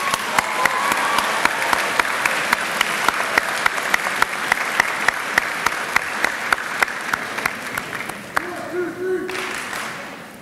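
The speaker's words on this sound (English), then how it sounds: "Let's give them a round of applause." Audience at a high school fine arts assembly applauding, a sustained dense wash of clapping from a large crowd, fairly loud and even for about eight seconds before tapering off near the end.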